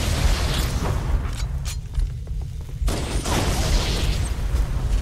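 Explosion in the video game Halo: CE, a dense rumbling roar with crackling bursts that dips briefly then returns, loud and continuous throughout with no talk.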